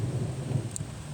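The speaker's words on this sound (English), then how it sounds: "Definitely hear that thunder rumble." Thunder from a storm approaching Elizabethtown, North Carolina, heard as a low, steady rumble under faint rain-like hiss, brief and with no voices.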